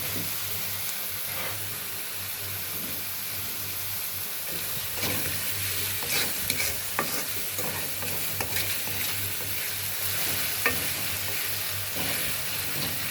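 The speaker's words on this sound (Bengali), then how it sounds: "পেঁয়াজটা ভাজা হোক" Onions frying with a little salt in a pan, a soft continuous sizzle and hiss, with occasional scrapes and clatter from stirring that grow busier partway through.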